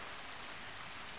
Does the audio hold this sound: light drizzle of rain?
yes